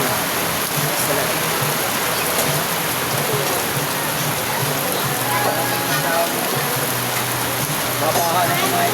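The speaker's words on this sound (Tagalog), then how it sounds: "Ito yung mga grabe ulan talaga dito ng mga lakas na ulan" Heavy monsoon rain from a typhoon-driven habagat pours down in a dense, loud, unbroken roar of drops hitting surfaces, steady for the whole stretch without any clear talk.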